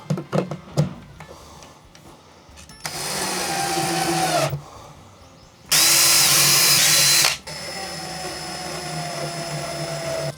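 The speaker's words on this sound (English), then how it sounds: "Let's drill a pilot hole for one of the screws." A power drill bores a pilot hole for a mounting screw while wiring a teardrop camper. After a few knocks come two close, loud bursts of whining drilling, the second louder, followed by a steadier, quieter run.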